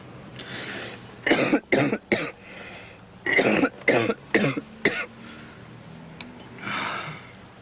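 Several harsh coughs in two clusters, close and loud, with short gaps and a softer breathy exhale at the end.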